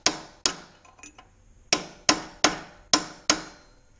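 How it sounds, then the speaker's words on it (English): A chisel lightly taps the metal coupler of a log splitter, seven or so sharp, close metallic clinks in an uneven rhythm with short ringing decays and quiet gaps, no talking. "I took a chisel and I lightly tapped up on the top piece of the coupler"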